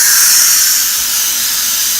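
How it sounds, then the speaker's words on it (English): Steam hisses out of the release valve of a Power Pressure Cooker XL electric pressure cooker, a loud, steady, close-up jet that eases off only slightly over the short stretch. "the steam is releasing out of the power pressure cooker"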